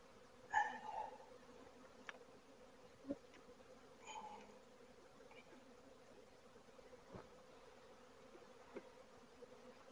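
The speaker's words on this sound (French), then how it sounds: "Évidemment, plein d'abeilles encore." A faint, continuous hum of many honeybees buzzing in a Flow Hive, with a few brief clicks and soft bumps scattered through, quiet and close.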